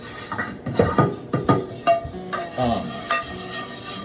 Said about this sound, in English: scrub the pan a bit